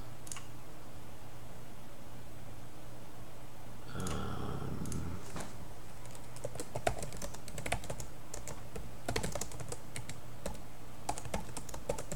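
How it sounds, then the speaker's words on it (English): Keys clatter on a computer keyboard in irregular bursts of rapid clicks. A brief rumbling noise comes partway through, then the tapping continues at close range. "Sorry about the typing again. It's going to be very loud."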